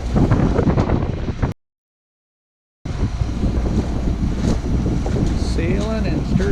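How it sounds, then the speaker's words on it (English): A sailboat under way at the entrance to Sturgeon Bay on Lake Michigan, with steady wind rush and buffeting across the microphone over water noise, broken by a short dropout of silence partway through. "Sailing in Sturgeon Bay."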